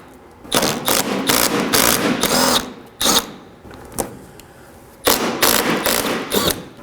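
Three 10mm bolts being removed from the front bumper of a 2013-2019 Nissan Sentra with a power tool, heard as several close, loud bursts of whirring and rattling separated by short pauses.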